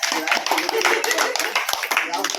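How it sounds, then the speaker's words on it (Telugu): An audience claps at a lucky draw event: dense, steady clapping from many hands that lasts throughout, with voices talking over it. "ఒకసారి గట్టిగా క్లాప్స్ కొట్టండి"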